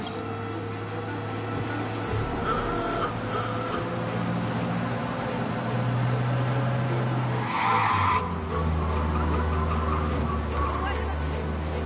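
A car engine roars at speed with screeching tire skids in the video game Mafia, steady and loud throughout, with voices talking faintly underneath.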